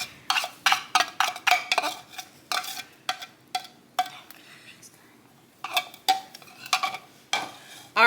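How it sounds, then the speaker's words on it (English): A spoon stirs Chex mix in a bowl to coat it in sauce, producing a run of close, crisp rustling scrapes in quick bursts, pausing briefly midway before resuming. "So get a spoon and just stir it around till it's all coated"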